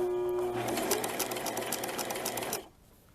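A sewing machine stitches fabric for a baby dirndl in one steady, close, loud run of rapid needle strokes, then stops abruptly and leaves near silence.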